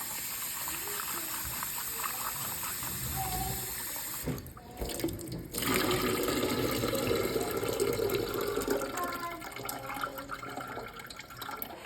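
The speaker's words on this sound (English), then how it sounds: "you rinse the rice, and then what's great about it is that you can actually drain the water" Rice is rinsed in a kitchen sink while tap water runs and splashes steadily close by, then the water is drained off, with a brief pause partway through before the running water resumes.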